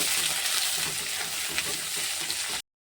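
Onions or spices sizzling steadily in hot oil in a pan while cooking a Bengali bhetki fish-bone chorchori, a continuous close hiss with no talk, cutting off abruptly near the end.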